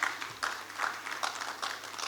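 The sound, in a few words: audience applause for Builder Kunle Awobodu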